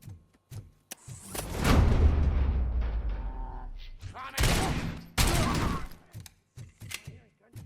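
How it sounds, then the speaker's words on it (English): Loud burst-fire gunshots in RoboCop: Rogue City, several close, sharp volleys in quick succession with brief gaps between them and scattered quieter impacts around them. "Goddamn burst fire."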